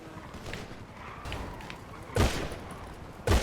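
Gunfire in GTA during a multiplayer gang fight, heard as a couple of sharp, loud shots standing out above a busy background of game noise and faint chatter.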